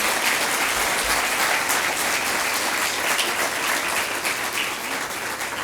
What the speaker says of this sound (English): Please give a round of applause for these amazing elected officials.